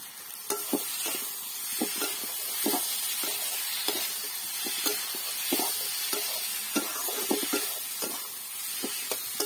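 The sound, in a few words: potato curry with tomato and spices sizzling while stirred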